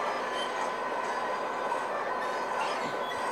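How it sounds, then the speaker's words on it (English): A fan-made Amtrak Greenfield Zephyr passenger train in a game rolls along at around 50 miles an hour, a continuous loud rumble and rail hiss with no distinct clacks standing out. "Right now, the train is going about in the 50s, like 50 miles an hour."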